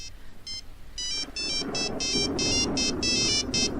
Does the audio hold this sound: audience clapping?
no